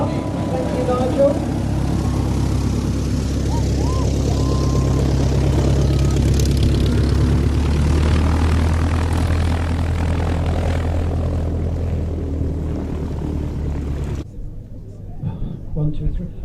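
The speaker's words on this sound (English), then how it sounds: "the first chipmunk in was flown by Nigel Wilson." A de Havilland Chipmunk propeller aircraft drones steadily overhead at RAF Mildenhall, a loud continuous engine roar with crowd murmur beneath, fading out abruptly near the end.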